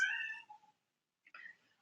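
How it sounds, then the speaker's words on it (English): A house cat meows twice, a longer close, clear meow followed after a short silence by a second, shorter one, both alone with no talk. "I might bring my cat in so that it doesn't bother us."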